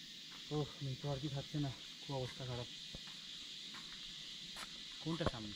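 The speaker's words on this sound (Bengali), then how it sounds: "কানে শুধু ঝিঝি পোকার ডাক ছাড়া" Crickets chirp on a quiet hillside road near a monastery in the Darjeeling hills on an evening. Their thin, steady, continuous drone runs faintly beneath a voice that talks on and off.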